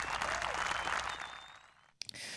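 A canned applause sound effect from a clap button on a podcast, a full burst of clapping and cheering that fades out, cuts off sharply, then is followed by a brief click and a different sound.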